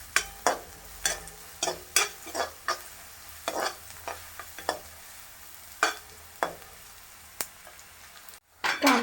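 Onion being sautéed in a pan for fish chutney: steady sizzle under a regular series of sharp spatula scrapes and taps, close and clear, with a short pause near the end.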